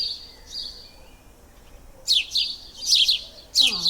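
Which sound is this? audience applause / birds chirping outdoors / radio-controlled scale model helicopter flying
birds chirping outdoors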